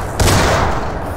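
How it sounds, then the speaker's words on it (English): Gunfire from a turret in a sci-fi shooter game set on an alien homeworld, a dense burst of booming shots starting abruptly and sustaining for about a second, loud and close. "Oh, okay, that's a turret."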